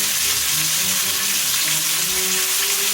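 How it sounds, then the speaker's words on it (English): Ahi tuna sears in a hot pan, giving a steady, close, loud sizzle and crackle of frying that runs unbroken throughout with no talking. "That's a beautiful sear, if you ask me"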